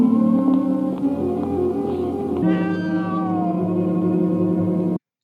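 A cat meows repeatedly in the horror film The Corpse Grinders, drawn-out cries over a low, steady soundtrack hum that ends abruptly.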